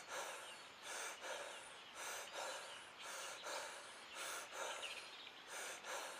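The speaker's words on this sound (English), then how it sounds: "he's like panting as he does any kind of effort" Video game character in an Unreal Engine 5 bow-combat game panting with effort, a steady run of breathy huffs repeating about every second, fairly loud and alone with no talking.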